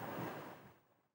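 Rushing wash of sea water along the hull of a sailing yacht under sail, a close broadband swoosh that swells briefly and then fades out.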